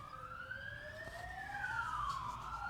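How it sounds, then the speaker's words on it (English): Several emergency-vehicle sirens wail past at a distance, their rising and falling tones sweeping and overlapping in a faint, continuous stretch with no talking. "There's a heap of sirens going past"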